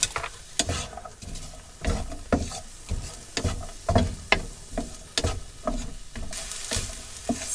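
Food sizzles lightly in a pan in a motorhome kitchen before mince goes in, with uneven scraping and stirring strokes over a soft, steady frying hiss close by.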